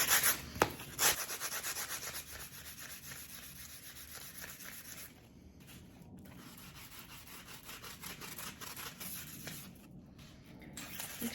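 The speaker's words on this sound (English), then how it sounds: "I've got a 60 grit sanding block here, and we're just going to rough up the surface of our glass a bit" A 60 grit sanding block scrubs over the surface of a glass tumbler with steady, rapid back-and-forth rasping strokes, close and fairly quiet, with no voices.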